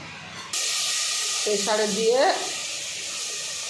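Mutton sautés in a pan with a steady, close hiss and sizzle that jumps louder early on and holds. A brief voice sounds briefly partway through.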